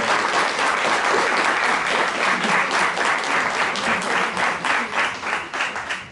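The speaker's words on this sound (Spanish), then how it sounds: "a quien le pido un fuerte aplauso que le den por favor para que inicie" A dense, sustained round of audience applause for a speaker at a science and humanities festival talk on low-temperature physics, holding steady and loud before easing slightly at the end.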